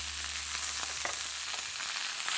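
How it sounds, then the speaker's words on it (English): Hunter's sausages sizzle and spit steadily in a hot pan, a dense, continuous frying hiss with small crackling pops, close and loud with no voices. "once these sausages start kind of spitting at you"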